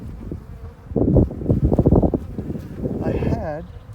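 Honeybees buzz around a hive frame during a Taranov shook swarm split, a dense close hum under a speaking voice and handling noise.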